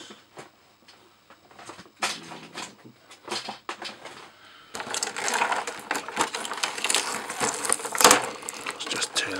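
A plastic parts packet is torn open by hand on a Warbotron WB01D Whirlwind figure set, producing crinkling, rustling bursts that start sparse and grow into louder, denser tearing and crackling in the second half.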